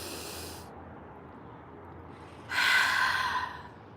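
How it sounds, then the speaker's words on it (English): A slow, deep breath drawn in through the nose, then let out through the mouth as a steady, close, airy rush, with a quiet pause between the two breaths and no talking. "Just take a deep breath in through the nose, out through the mouth."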